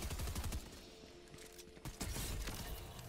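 Distant bursts of automatic gunfire crackle in the video game Fortnite, faint and rattling in uneven volleys over a low background hum.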